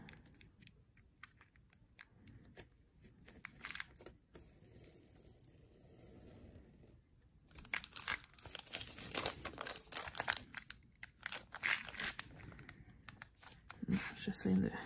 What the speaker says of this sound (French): J'essaie de couper mon papier pour faire mon autre section.